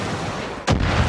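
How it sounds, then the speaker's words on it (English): A single sharp, heavy gunshot booms abruptly in the game Far Cry New Dawn after a moment of low background noise, with a rumbling tail. "Oh, I hear gunfire."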